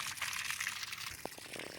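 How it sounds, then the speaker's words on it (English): Water drains and trickles out of a small sailboat tilted back toward its drain, a soft, steady gushing wash with a few faint knocks near the end. "tilt the boat back so that way the water, there we go, I can hear it, the water just flows on back"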